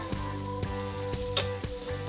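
Steady, close sizzling and crackling of chicken pieces for chicken piccata frying in a hot pan, with a few soft clicks and one sharper spatter.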